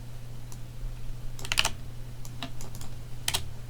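Keystrokes on a computer keyboard as a command is typed, in short clustered bursts of clicks with pauses between them, close and moderately loud over a steady low hum.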